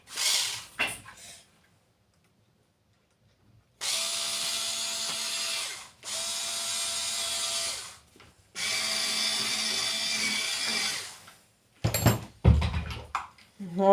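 A hand screwdriver or small tool is worked while unboxing a parcel, giving three sustained bursts of close mechanical whirring and scraping, separated by short pauses and ending in sharp clattering knocks.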